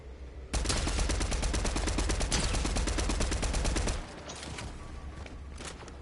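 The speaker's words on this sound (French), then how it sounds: "Ça tire de partout, c'est quoi ce carnage?" Dense automatic gunfire in the video game Fortnite, a rapid continuous rattle of shots for several seconds that then drops to scattered, quieter shots, with no talking.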